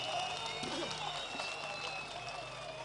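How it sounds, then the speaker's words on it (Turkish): A crowd in a public square claps for the mayor in a moderate, even burst, with a voice talking over the applause. "Başkanı alkışlıyoruz ve teşekkür ediyoruz."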